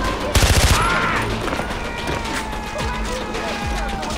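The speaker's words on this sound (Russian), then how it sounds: "Пистолет пулемет." Submachine gun fire in Far Cry 4: a short rapid burst of shots, followed by scattered game sound effects, with someone talking over it.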